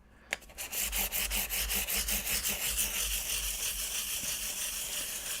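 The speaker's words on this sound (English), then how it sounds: "So I got some 600 sandpaper. I'm going to start polishing these frets up." Guitar frets are polished with 600-grit sandpaper, a steady close-up rubbing and scraping with rhythmic back-and-forth strokes running throughout, no talk.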